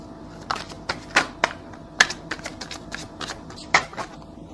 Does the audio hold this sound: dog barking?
no